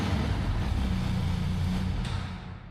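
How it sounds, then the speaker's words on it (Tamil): A Benelli TRK 502X adventure motorcycle runs with a steady, rumbling engine and exhaust note that holds evenly, then eases off slightly at the end. "இப்போ வந்து இன்ஜின் நோட்டை கேட்டுருவோம்."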